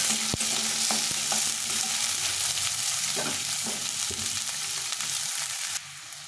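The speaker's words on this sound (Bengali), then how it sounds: "পেঁয়াজটা দিয়ে পেঁয়াজটাকে ভালো করে ভেজে নিতে হবে" Chopped onions frying in oil in a pan give a constant close sizzle, broken by a few scraping stirs and a sharp clink, with no talk over it.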